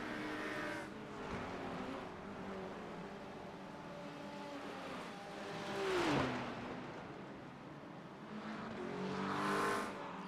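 Race cars at the Le Mans circuit, including a BMW GT3 machine, drone with steady high engine tones, their pitch shifting, as one car sweeps past with a rising roar around the middle and another nears at the end.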